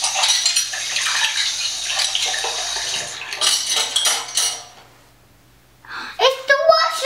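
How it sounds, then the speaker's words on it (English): Dishes being washed with a tap running, a bright rushing splash of water with clinks, pausing briefly before resuming in short splashes; a voice can be heard speaking over it. "That's right, washing the dishes."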